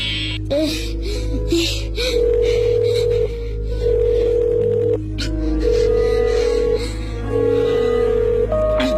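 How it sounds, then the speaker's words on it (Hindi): A telephone tone sounds after a call disconnects on stage at a school annual day performance: a steady electronic beep repeating in long pulses with short gaps, loud, with faint background noise and breathy sounds. "फोन कट गया"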